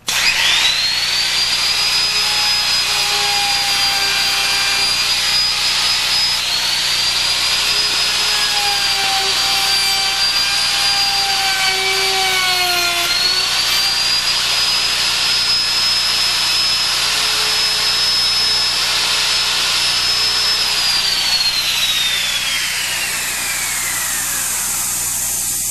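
A router with a bit cuts a hinge recess into a door guided by a template, giving a loud, continuous high-pitched whine that dips briefly under load midway and winds down at the end.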